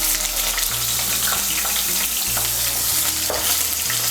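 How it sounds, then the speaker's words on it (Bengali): Large brinjal halves frying in hot oil, a loud continuous close sizzle and crackle with occasional stirring, no talking. "এই তেলের মধ্যে বেগুনগুলো ভেজে নেব।"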